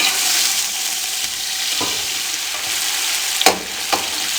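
Chicken pieces fry steadily in a hot pan, a continuous close sizzle with a few sharp clinks of a spoon scraping and stirring near the end.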